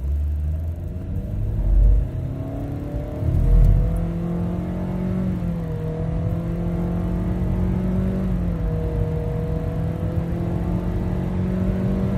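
A 2018 Mitsubishi Outlander engine drones and rises in pitch through gear changes, a steady close-up rumble with two heavier bursts early on.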